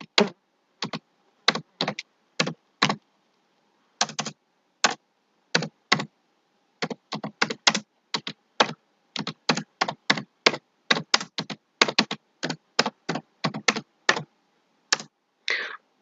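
Keystrokes on a computer keyboard while text is entered in Microsoft Word, arriving as quick clustered bursts of crisp clicks with brief pauses between words, close and clear with no talking.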